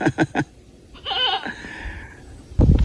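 Goats on a farm bleat in one wavering cry after a few quick low knocks, followed by a burst of rustling noise, fairly close and without speech.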